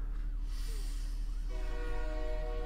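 A departing train in the game Train Depart sounds its horn, a long steady harmonic blast that swells in over a low rumbling hum and holds to the end.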